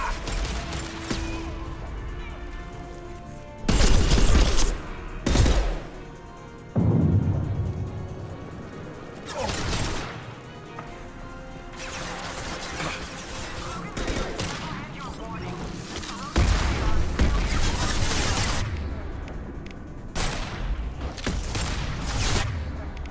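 Gunfire in the video game Mass Effect 2 on Insanity difficulty, with repeated loud bursts of automatic fire and heavy impacts in clusters, interspersed with game sounds and brief voices.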